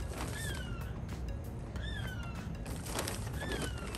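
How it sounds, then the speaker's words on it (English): Several high, sliding bird calls repeat against a steady background hiss at night in a South Florida garden, distant and fairly faint, a few chirps spaced a second or two apart. "those are birds making sound"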